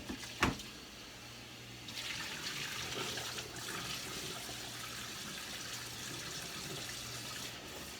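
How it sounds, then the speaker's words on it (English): Cold tap water runs steadily into a pot of just-boiled eggs in a kitchen, a soft, even rush after a brief knock at the start, fairly faint throughout. "every now and then I pour the water off, stir it around a little bit, and dump more off."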